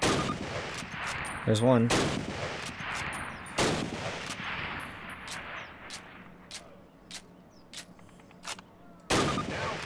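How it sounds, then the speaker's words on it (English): Springfield rifle gunshots ring out on a training range in the Call of Duty video game. Several sharp, loud reports are spaced apart, with a few fainter shots in between and a brief spoken remark. "Turn to the left, move to the fence, and fire two rounds at your target."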